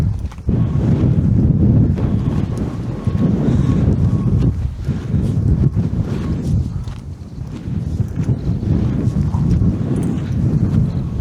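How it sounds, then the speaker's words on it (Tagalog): Strong wind gusting across a hillside campsite during an overnight motorcycle camping trip, a steady loud rushing roar buffeting the microphone for the whole stretch. "Sarap ng hangin, oh. Lakas po ng hangin."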